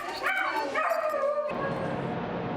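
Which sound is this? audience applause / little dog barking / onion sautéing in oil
little dog barking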